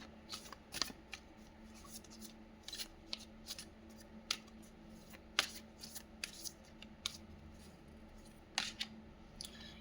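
Tarot cards being shuffled close up, a run of crisp riffling snaps and soft slides in uneven bursts against a quiet room hum, with no talking.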